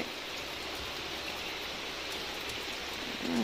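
Rain falls outside as a soft, steady hiss of drops with no voices over it.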